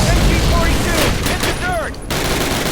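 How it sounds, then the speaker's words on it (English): Mortar blasts and gunfire in the World War II shooter Call of Duty 1, loud and dense booms and bursts crowding the whole stretch with only a brief lull, a voice talking underneath. "mortars"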